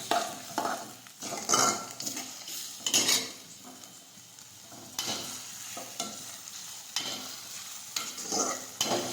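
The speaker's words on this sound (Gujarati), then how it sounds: "ખમણેલું આદુ નાખીશું, લીલું સમારેલું લસણ નાખીશું. હવે સાતળી લઈશું." Grated ginger and chopped green garlic sauté in a pan for brinjal bharta, with a soft sizzle under repeated scraping and clinking of a spoon against the pan in uneven bursts, close and fairly quiet.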